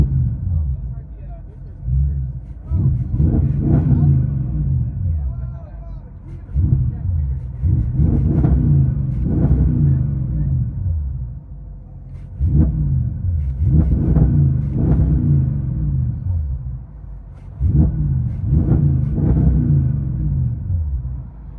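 Twin-turbo 4.0L V8 exhaust on a 2013 Audi S6 with muffler delete, heard from inside the cabin as a deep rumble swelling in repeated rev bursts every few seconds, with steady idle drone between them.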